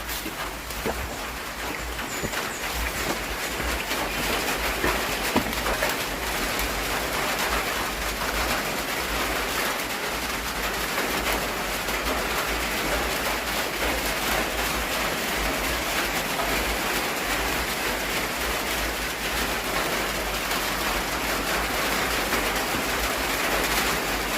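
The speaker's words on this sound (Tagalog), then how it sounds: "medyo lumakas yung ulan dito ngayon" Heavy rain falling at a cemetery in Davao de Oro, a dense, steady hiss of drops on surfaces that holds constant and fairly loud for over twenty seconds with no talk.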